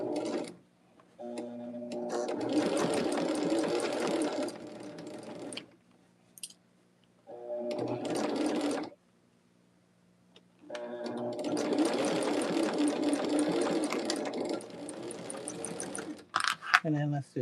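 A sewing machine stitches quilt block seams in three loud bursts of rapid mechanical whirring, broken by quiet pauses while the fabric is adjusted.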